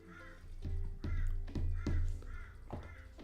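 Crows cawing outside a window, several hoarse caws in an uneven series, fairly loud and clear over a low background rumble.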